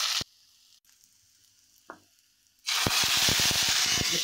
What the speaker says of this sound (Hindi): अच्छी तरह से छौंक लगा देना है।